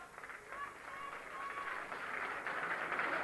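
Crowd at a rugby league cup final gives a sustained round of applause as a player leaves the field, a steady broad wash of clapping rising slightly over the few seconds with faint distant crowd noise.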